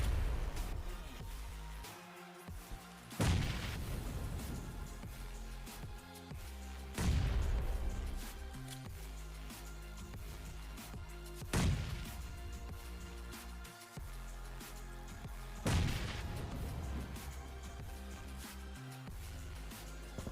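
Grenade blasts in PUBG Mobile, four booming explosions spaced a few seconds apart over a constant bed of game sound, no voices.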